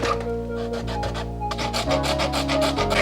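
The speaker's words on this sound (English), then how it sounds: "I basically just took my half round file and made another divot." A half-round file shapes a divot into a bow, giving steady, rhythmic rasping strokes heard close and fairly loud, with no voices.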